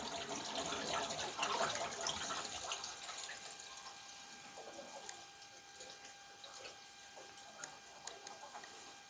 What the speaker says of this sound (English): Okay, so now you hear the water going through.